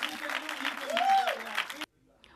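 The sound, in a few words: fans cheering and applauding in a theatre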